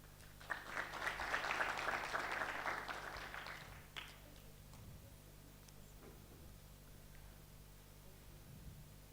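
Applause from an audience at a live-streamed awards event at the Dubai World Trade Center, a burst of clapping lasting about three seconds that fades into quiet room tone.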